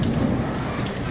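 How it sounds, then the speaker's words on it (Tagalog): Heavy rain pours in a dense, loud, continuous roar with no voices. "umulan po ano? Oo anak, lakas-lakas na."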